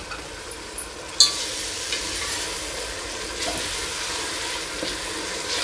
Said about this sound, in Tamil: இப்போ நம்ம போட்ட புதினா கொத்தமல்லி எல்லாத்தையும் நல்லா வதக்குறோம்